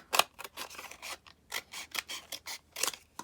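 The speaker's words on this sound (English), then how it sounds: "we're just gonna cut just a strip here" Scissors cut a strip from a manila envelope for a journal: a close run of crisp snips and paper rustles, about a dozen irregular cuts, with no talking.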